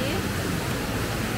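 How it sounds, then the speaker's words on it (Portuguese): A waterfall on a trail near Urubici pours with a steady, close broadband rush of water that fills the short moment without a break. "E essa cachoeira, não?"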